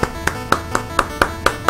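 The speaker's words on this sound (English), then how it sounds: "They always clap when there's a successful launching" Crowd applause from a rocket launch in the NES game Space Shuttle Project, rendered as a loud, evenly spaced train of sharp synthetic claps, roughly four per second, with nothing else behind them.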